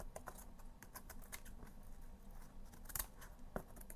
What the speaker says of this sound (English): I'm just going to clean it up, just cutting right down the spine.